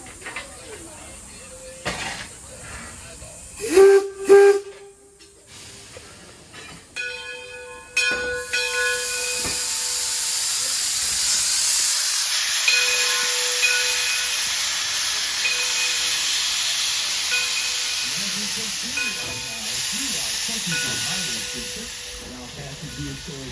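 A Greenfield Village Railroad steam locomotive lets out a long, loud hiss of escaping steam after some clanks and whistle tones, with a voice briefly audible nearby.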